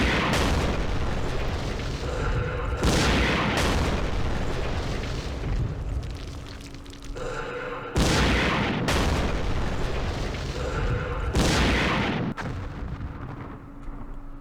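Weapons fire in the Vietnam War strategy game Campaign Series Vietnam: a run of loud, heavy booming blasts and rumbling bursts in several sustained waves, with sharp onsets and no talking.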